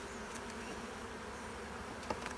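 Honey bees buzzing around an open hive during a hive check, a steady, faint, dense drone with a few louder passes near the end.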